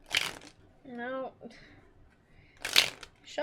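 Tarot cards are shuffled by hand near a lit candle, two short, crisp riffling bursts a few seconds apart, close and distinct, with a brief murmured voice between them.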